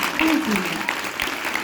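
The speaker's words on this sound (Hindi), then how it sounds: "ताली जरूर बजाइए" Applause from an audience at an Arya Samaj gathering where children's patriotic songs are sung, a brief steady wash of clapping with voices mixed in.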